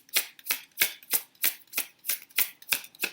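Tarot cards are shuffled by hand at close range, with about ten crisp, evenly spaced riffling bursts in a steady rhythm and no voices.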